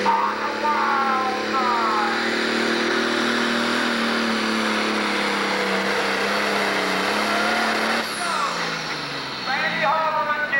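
A John Deere 410 pulling tractor roars at full power during a 10,000 lb pro stock pull at the 1998 Ohio State Fair, a loud sustained engine drone with rising revs and a sharp shift near the end.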